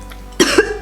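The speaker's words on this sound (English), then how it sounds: "I just had a cough attack." A woman gives a sudden fit of three close, harsh coughs after a quiet moment, each one loud and sharp, like choking after swallowing the wrong way.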